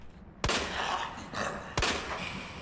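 Two sharp gunshots in Resident Evil 2 Remake, about a second and a half apart, each leaving a long noisy tail of echo and game ambience.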